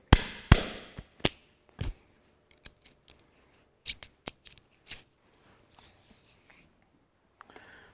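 A sharpened punch cuts holes in a Ferguson tractor's dash-to-bonnet rubber strip, giving a string of sharp, crisp snaps and clicks, some loud and close, others fainter, spaced irregularly with short pauses and no voices.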